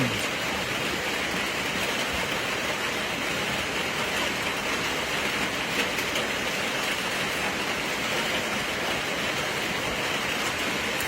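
Steady rain falls in a continuous, even hiss that holds at the same level throughout, with no voices over it.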